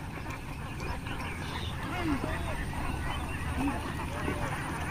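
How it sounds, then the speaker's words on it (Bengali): Flock of Khaki Campbell ducks at a farm beside a wetland, scattered quacks and honks rising over a steady outdoor rumble and breeze, fairly distant and mixed together. "খাকি ক্যাম্বেল হাঁস"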